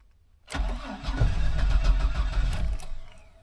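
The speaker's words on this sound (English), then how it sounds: "Let's hope she cold starts." A car engine cold starting while camping, the engine having trouble starting lately: a sudden crank catches into a loud, rough-running engine that holds for about two and a half seconds before dropping away.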